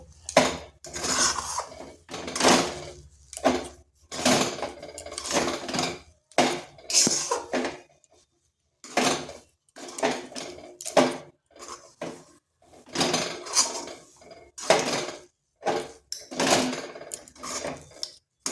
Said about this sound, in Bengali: এইভাবে নেড়ে চেড়ে এটা একটা ডো তৈরি করব।